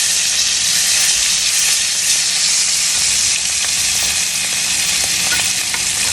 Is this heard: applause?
no